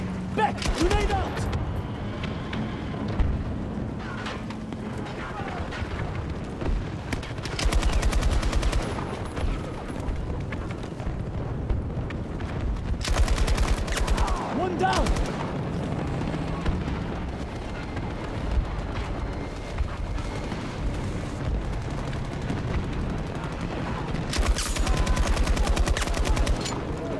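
Battlefield 2042 combat: bursts of gunfire and a grenade blast crash out in several loud, dense waves over a constant din of battle, with players talking over it.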